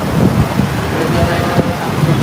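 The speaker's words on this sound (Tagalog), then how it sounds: "windy po ng konti dito po sa Vietnam" Wind blowing on a street in Vietnam, a loud, steady rumbling buffet of wind noise against the microphone with no break, heard alone.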